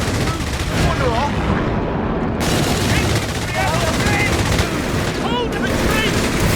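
Heavy machine gun fire rattles through a Company of Heroes 3 battle, loud sustained bursts mixed with other gunfire and explosions, with soldiers' voices shouting over the combat.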